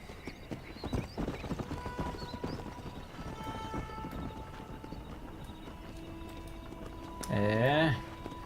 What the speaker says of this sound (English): Cavalo de guerra.